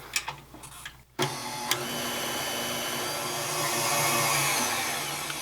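An electric mixer whirs through cupcake batter with added vanilla, starting after a few clicks and knocks, then running as a continuous loud motor whine close by.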